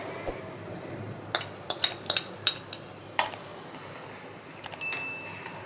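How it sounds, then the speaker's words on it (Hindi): A spoon stirs spices into arhar (toor) dal in a metal cooking pot, giving sparse, sharp metallic clinks and scrapes in small clusters over a quiet background. "फिर इसको हम हल्का सा चला देंगे ताकि मिक्स हो जाएं सारे मसाले।"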